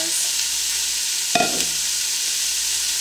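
Onion sautés in an Instant Pot with a constant, fairly loud hiss of frying and a single clunk of a utensil partway through.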